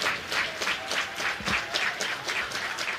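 Baseball crowd at an Iowa vs Georgia game on a Tuesday night applauding steadily, a broad wash of clapping that holds at an even level throughout.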